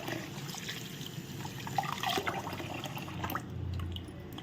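Water trickling and dripping as soaked mixed lentils are rinsed and drained in a kitchen, a soft, close, continuous splashing with small drips and no talking.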